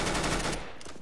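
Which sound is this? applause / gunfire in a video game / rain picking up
gunfire in a video game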